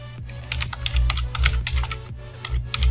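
Quick keystrokes on a computer keyboard come in short bursts, with one firmer press of the Enter key among them. The clicks are close and crisp, and no one speaks.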